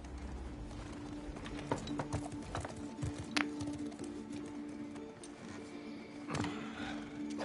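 A horse's hooves clip-clop in the video game The Last of Us Part II, a soft irregular clopping under a steady low hum and occasional sharper knocks.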